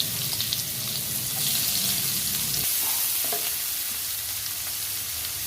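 Garlic and onion fry in hot white oil, a steady close sizzle and crackle with a slight lift partway through as the pan's contents shift.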